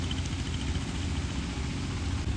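A tractor engine runs steadily in a muddy field, giving a continuous close, low rumbling drone with no breaks.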